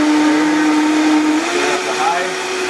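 A Vitamix blender whirs steadily, blending coffee with organic butter and coconut oil, its motor pitch shifting slightly as the speed changes, loud and close throughout.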